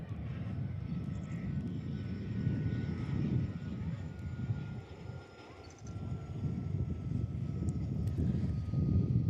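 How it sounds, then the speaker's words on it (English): A Fokker 100 airliner for QantasLink comes in to land, its engines a steady low roar heard from a distance with faint wind, no talk over it. "Fokker 100 heading in today from Jinbada."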